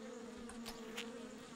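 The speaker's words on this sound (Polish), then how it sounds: "O nie, znowu osy!" Swarming wasps buzz in Postal 3, a steady insect drone with sharp bursts of wings passing close by, sustained throughout.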